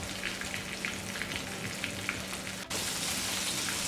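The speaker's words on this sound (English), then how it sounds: "all I'm gonna do is place the fish in the oil until it's golden brown" Thin fish fillets frying in hot oil for fish and chips, a steady dense sizzle with crackling pops throughout, briefly dipping near the end before resuming loud and even.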